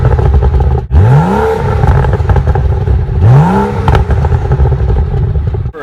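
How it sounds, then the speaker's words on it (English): Stock exhaust on a 2012 BMW F30 335i revving twice, each blip a rising engine sweep that falls back to a steady, fairly loud idle rumble with some clatter. "I love the exhaust that's on this car"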